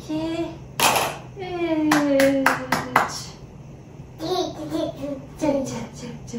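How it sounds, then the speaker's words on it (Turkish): Several sharp hand claps, first a single clap and then a quick run of claps, between children's and adult voices. "Alkış"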